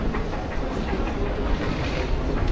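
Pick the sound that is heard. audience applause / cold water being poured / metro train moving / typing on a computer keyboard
metro train moving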